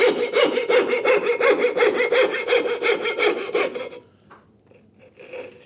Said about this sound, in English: the bulk of the waste, again, is going to come out with the coping saw.